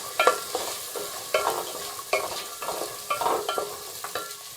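Biryani ingredients with fresh peas sauté in a hot pan, a soft sizzle broken by rhythmic scraping strokes of a stirring spoon roughly once a second, close and with no voices.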